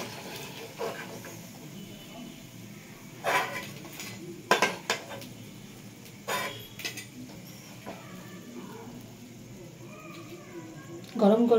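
Freshly fried medu vada are moved into a bowl, with scattered clinks and knocks of dishes and utensils breaking through a quiet kitchen background while a person talks.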